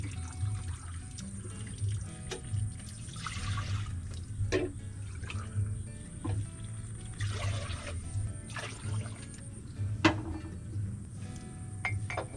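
Five cups of water are poured into a pot while making tinupig, a steady liquid splashing with occasional clinks of a cup or pot against metal, heard up close and fairly quiet.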